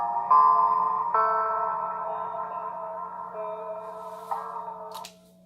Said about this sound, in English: when you add the lo-fi and the tape, oh, and the condor is rolling some of the high off.